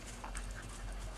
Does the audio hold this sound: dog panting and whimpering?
yes